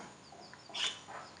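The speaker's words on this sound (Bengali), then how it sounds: "আর দেশি মোরগ আছে" A brief bird call rises briefly over a quiet background hiss, a short fowl-like cluck from a native rooster followed by a softer trailing note.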